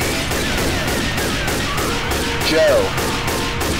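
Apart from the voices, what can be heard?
grenade launcher firing in the video game Left 4 Dead 2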